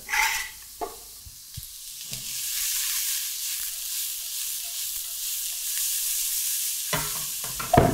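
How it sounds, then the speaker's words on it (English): Onions and garlic sweat gently in olive oil in a pan with a soft, steady hiss. A few clattering knocks sound at the start and end, and no one speaks. "And we're going to just gently sweat off these onions and garlic, both together."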